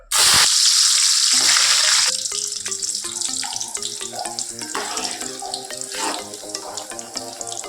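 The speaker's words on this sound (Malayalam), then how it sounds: "കശുവണ്ടി ഒന്ന് വറുത്തെടുക്കാം" Loud sizzling hiss of cashews frying in hot coconut oil, strongest at first, then continuing more softly beneath rhythmic background music.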